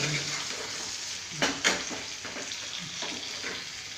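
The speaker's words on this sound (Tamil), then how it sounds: "மீன் நல்லா இந்த எண்ணெயிலே வேகுது." Fish fries in oil with masala while being gently turned, giving a steady close sizzle with a few louder spattering pops partway through.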